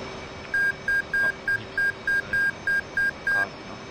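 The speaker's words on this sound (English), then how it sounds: "FCS bit is complete, marked by the beep tone" Cockpit beep tones in a DCS F/A-18C flight simulator marking flight control system built-in test completion: ten short, evenly spaced electronic beeps over a steady low hum.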